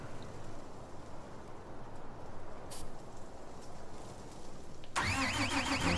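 A tractor engine starts in the video game Farming Simulator 19. A low background rumble gives way, near the end, to an abrupt, loud ignition that settles into a steady, throbbing mid-pitched idle.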